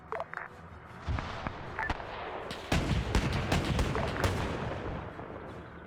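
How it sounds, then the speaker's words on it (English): Anti-aircraft guns fire in a Korean War video game, a dense run of loud booming shots and rattling bursts that thickens midway into near-continuous heavy gunfire with no talk. "Now they're using some of the AA guns to try to shoot at some of the soldiers up here."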